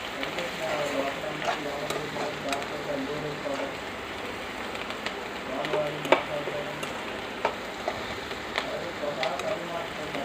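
Onions frying with salt and turmeric in a pan for an egg onion curry, a steady soft sizzle with scattered crackles and occasional stirring clicks throughout, fairly quiet and close.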